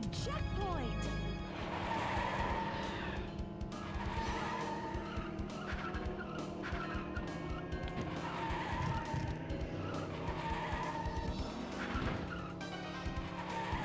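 Cars race and skid in the N64 video game Cruis'n the World, with a steady engine drone and repeated tire squeals and skids over loud game music, while players talk throughout.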